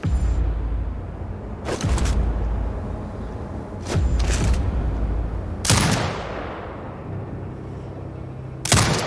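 A video game turret fires four heavy shots spaced a couple of seconds apart, each a loud, sharp blast with a booming tail, over a steady low rumble of ambient engine noise.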